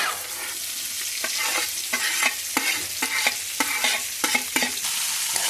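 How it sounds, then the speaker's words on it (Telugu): Cluster beans being stirred in hot oil with tempering spices: steady frying sizzle with rhythmic scraping strokes of a spoon against the pan, close up, no voices. "అందులో పోపులు వేసేస్తారంట చిక్కుడుకాయలు."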